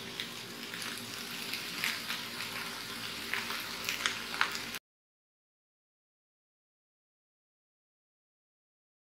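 Onions and green chilies sauté in a pan with a steady close sizzle for about five seconds, then the sound cuts to silence.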